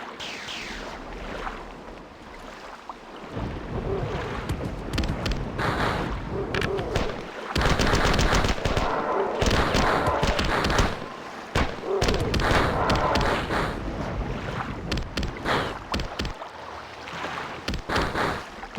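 Gunfire in the video game Marathon Infinity, heavy repeated shots and blasts firing in bursts over a rumbling, wash-like background, with a voice talking at times.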